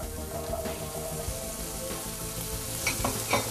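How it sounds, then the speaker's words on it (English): Steady crackling sizzle of butter and onions frying in a pan, continuous and close, with a few brighter pops and scrapes near the end; chickpeas have been added. "Hear that sizzle?"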